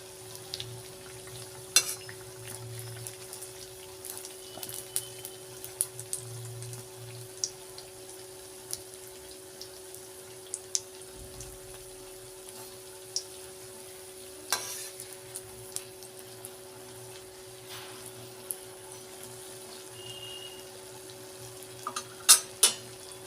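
Wheat flour pitha (atta malpua) fry in oil, a quiet continuous sizzle with occasional sharp clinks and scrapes of utensils, without any talking.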